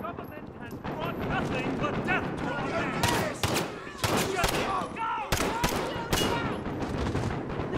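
Gunfire in the video game Modern Warfare 2019, with sharp shots cracking out in irregular bursts over a busy game soundscape, and a voice speaking in among the shooting.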